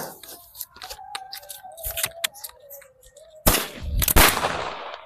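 A Diwali sky-shot firecracker fired from a launcher set upright in soil, with a sharp launch hiss and crackles followed by a loud broadband burst and crackling explosion partway through, close and outdoors.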